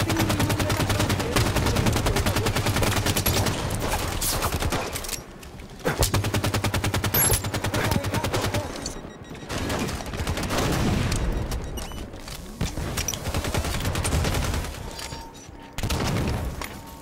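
Rapid automatic gunfire rattles almost nonstop in Halo 5 multiplayer, dense bursts of shots with brief pauses and sharp single cracks, loud and close.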